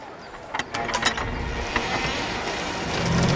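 A heavy gate mechanism grinds and clanks with ratcheting clicks and creaks as the gate breaks off its hinges, then settles into a steady rumbling drone as it keeps moving.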